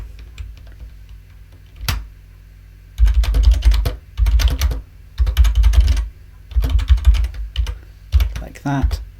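Python code being typed on a computer keyboard, bursts of rapid, close, loud key clatter separated by short pauses, with one early isolated keystroke.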